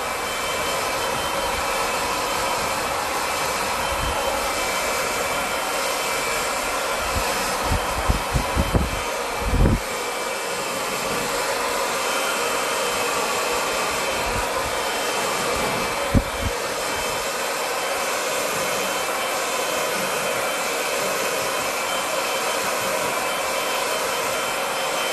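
A hair dryer blows at the roots during an above-shoulder blow dry, a steady loud whoosh that runs for the whole stretch with a few brief knocks and handling bumps midway.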